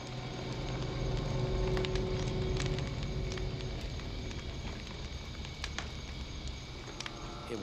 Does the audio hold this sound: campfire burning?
yes